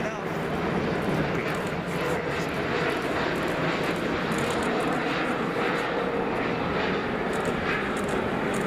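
A Condor Boeing 767 airliner at Frankfurt Airport on its final revenue flight, its engines making a steady, broad roar that fills the whole clip while people talk over it.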